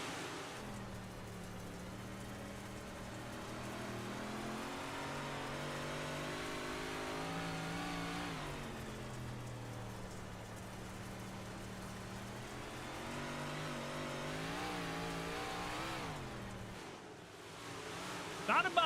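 Race cars accelerating around an oval track during a 30-lap race, engines droning and rising in pitch as they pull through the turns, heard at a distance beneath a commentator's voice throughout.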